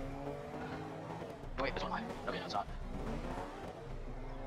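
A car drives in a video game, its engine hum and tire noise rising and falling at moderate volume while players talk over it.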